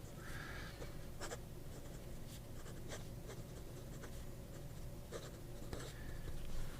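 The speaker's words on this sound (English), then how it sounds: "14 karat Aurora nib, in-house, writes just like an absolute charm" An Aurora fountain pen with a 14 karat nib scratches softly across paper in quick irregular strokes, faint against a low steady hum.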